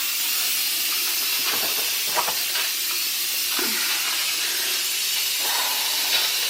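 Steam fizzing and hissing off freshly pressure-cooked mash in a home kitchen, a constant close sizzle with faint clinks and small bumps scattered through it, no voices.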